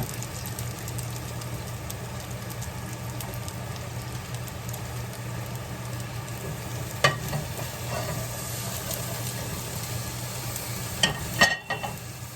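Salmon fries in a pan with a steady, soft sizzle close by, broken by a few brief clinks and knocks of cookware, and no one talking.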